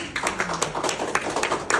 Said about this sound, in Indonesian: Tepuk tangan untuk Milgram.